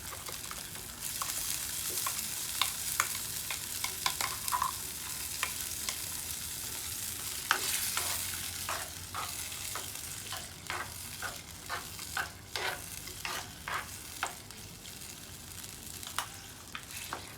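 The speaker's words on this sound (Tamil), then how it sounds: "இப்போ இந்த அரைச்சி வச்சுக்கிற பேஸ்ட்டையும் இதுக்குள்ள போடுவோம்" Steady sizzling from a nearby pan as ground spice paste fries with mutton, with a spoon repeatedly scraping and stirring in an uneven rhythm throughout.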